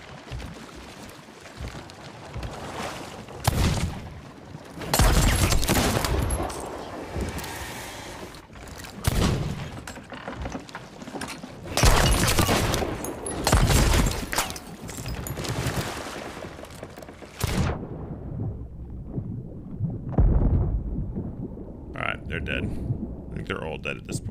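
Fireworks going off in the pirate game Sea of Thieves, a run of loud booming bursts and crackles spread across the clip, mixed with game noise.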